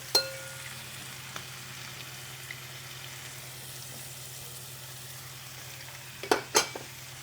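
Lemon juice cooking down in a pan with a faint, steady sizzle under a low hum, then a couple of sharp utensil clinks near the end.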